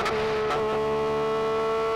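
A Porsche 911 GT3 RS engine pulling hard in second gear, a loud steady mechanical drone with a rising tone, heard close from inside with no talk.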